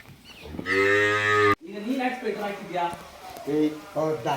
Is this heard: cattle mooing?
yes